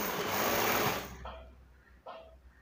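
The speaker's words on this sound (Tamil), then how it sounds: "தைக்க ஆரம்பிக்கேன் பாருங்கள், ரெண்டே ஒன்றா வச்சுருக்கேன்." A sewing machine stitching two layers of blouse fabric together gives a loud, fast, steady whir for about a second, then stops, leaving quiet handling and a voice.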